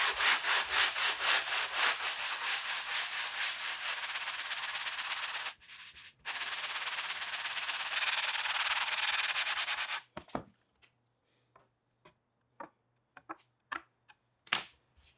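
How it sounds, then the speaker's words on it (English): A wooden kayak paddle blade, cut from a reclaimed board, is worked by hand with a block faced in 40 grit sandpaper, giving steady, loud, close rhythmic scraping strokes for about ten seconds before a few sparse knocks and taps. "I've glued 40 grit sandpaper to the matching offcut, and this sanded it down in no time at all"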